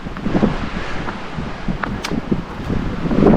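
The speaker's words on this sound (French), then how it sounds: "j'ai le vent dans le dos" Wind buffets the microphone of a cyclist riding outdoors, with a continuous rumbling, gusting roar and rustling throughout, loud and close, with no clear talk.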